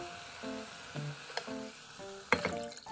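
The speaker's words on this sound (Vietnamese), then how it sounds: "Mình xào hành tây và kim chi trước" Onion and kimchi stir-fry in a hot pan, giving a steady sizzle and crackle broken by a few clattering stirs and scrapes, with no talking.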